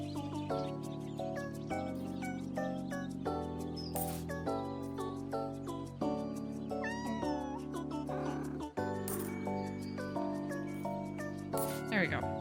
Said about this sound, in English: I hear kitty.